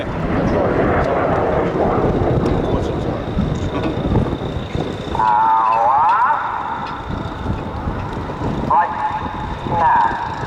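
Red Arrows display jets fly at the Royal International Air Tattoo 2015, their steady, roaring rush of engine noise filling the whole stretch, with a voice talking over it at times.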